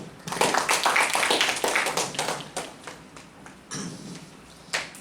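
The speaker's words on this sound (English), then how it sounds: "A big round of applause for TM Talha." A small audience at a Toastmasters meeting claps and applauds for a few seconds. The clapping is dense at first, then thins to scattered claps and fades.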